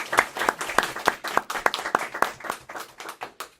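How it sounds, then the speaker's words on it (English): An audience gives a round of applause at a live talk event: a small group claps in loose, uneven bursts, each clap distinct and close, thinning out toward the end with no voices. "Let's give her a big round of applause."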